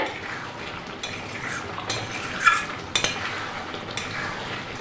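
Chicken kosha with shahi garam masala is stirred in a pan as a soft frying sizzle runs underneath, broken by a few sharp metal spatula scrapes and clinks against the pan.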